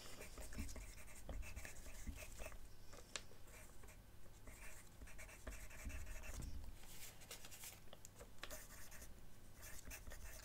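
Pen or pencil scratching steadily across paper while making quick sketches, a continuous close rubbing texture with small strokes and taps, faint and alone with no talking.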